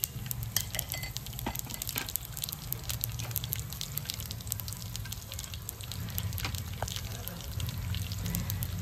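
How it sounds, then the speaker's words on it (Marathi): Mustard seeds, cumin, lentils and peanuts roasting in hot oil for a sorghum masala idli and chutney, a steady close sizzle with scattered crackles and pops and occasional stirring scrapes, no voices. "आपलं तेल तापलंय, त्यात मोहरी, जिरे, ज्या डाळ्या घेतल्या त्या डाळ्या"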